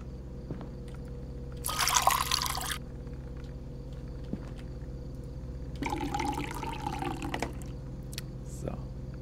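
Water trickles and pours into a coffee maker in the horror game Fears to Fathom: Woodbury Getaway, two short bursts of filling against a steady low hum, the second longer and fuller.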